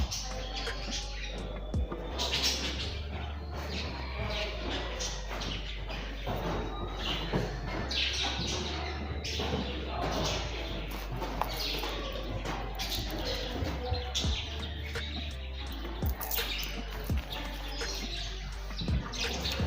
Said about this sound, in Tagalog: Ito yung mga maliliit na ibon. Maiingay sila guys.